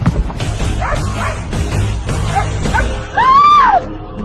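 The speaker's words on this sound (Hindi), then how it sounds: "सुचित उस बॉक्स से भौंकता हुआ कमरे के बाहर भाग गया" A dog barks and yips as it bolts out of a box, a loud sharp bark with a whining tail near the end, over a background of music and rumbling noise.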